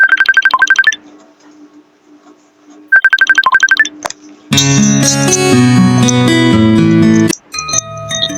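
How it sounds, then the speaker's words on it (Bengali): The current Messenger app ringtone plays loud and near: bright repeated chiming bursts separated by pauses, then a fuller sustained melodic tone that cuts off abruptly. "সবার প্রথমে আপনার বর্তমান যে রিংটোনটা রয়েছে সেটা শুনুন"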